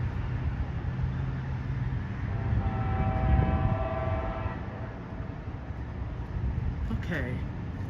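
An Amtrak train hauled by a Siemens locomotive arrives at a downtown station in Fayetteville, NC. A steady rumble of rolling cars fills the scene while a horn sounds in sustained tones partway through.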